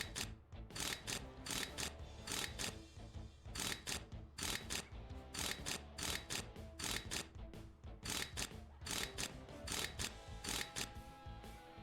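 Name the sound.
wrench screwing bolts back in, Tank Mechanic Simulator video game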